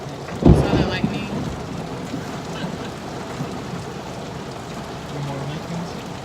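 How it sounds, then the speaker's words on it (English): Heavy rain pours down steadily outdoors, and a loud crack of thunder comes early before the downpour continues as a dense, constant wash. "It is pouring down."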